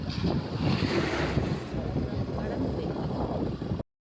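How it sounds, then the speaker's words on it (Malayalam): A KSRTC bus wades through flood water with a low, churning rumble of engine and water, partly masked by strong wind buffeting close to the microphone. "KSRTC വെള്ളം നീന്തി കടന്നു വരുന്നുണ്ട്"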